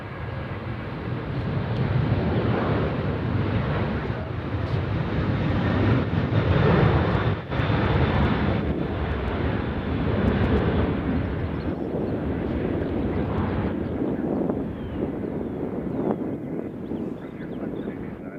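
An Icelandair airliner lands on the center runway at Nashville airport on a windy day, a sustained engine roar mixed with gusty wind buffeting the microphone, fairly loud and steady before fading slightly.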